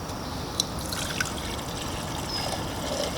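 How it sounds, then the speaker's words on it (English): Water is poured into an MSR Windburner stove pot, a litre going in as a steady, close trickle with a few brighter splashes, and no voices over it. "So let's fill this up with a litre of water."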